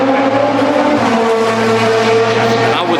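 HWA EVO prototype race car driving hard on the Nürburgring, a loud, close, continuous engine roar with steady harmonic tone throughout, no talk.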